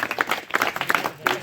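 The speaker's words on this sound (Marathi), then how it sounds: "बरोबर हा तर टाळ्या वाजवा." An audience at a talk on superstition eradication claps briefly, a quick burst of scattered, fairly close handclaps lasting only a moment.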